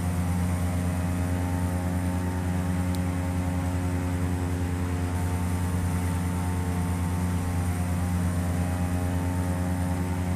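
Steady, droning propeller engine hum of a simulated Cessna 208B Grand Caravan in the Prepar3D flight simulator, with a constant pitch that holds throughout, loud and unchanging.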